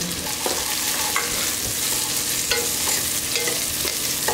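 Shallots and curry leaves fry in oil for a cauliflower kurma, making a loud, continuous sizzle and crackle up close. A few short stirring clinks sit on top, and there is no talk.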